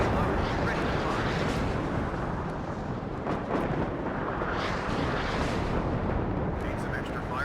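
Artillery fire in the video game WARNO, a dense continuous roar of booming blasts and rumbling explosions layered together, loud and sustained throughout with no pause.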